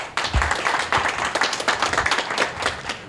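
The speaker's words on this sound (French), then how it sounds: "Applaudissez pour ça." A gathering of the Guinean community during a consul general's visit bursts into lively clapping, close and loud, with uneven bursts of hands and a few sharper claps rising and falling over a few seconds.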